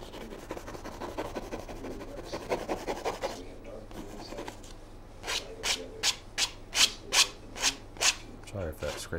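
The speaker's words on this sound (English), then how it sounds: "Sorry if that scraping sounds too loud." Palette knife scraping while mixing thin white paint on a palette, a loud rubbing drone followed by a run of rhythmic, close scraping strokes, with no talk.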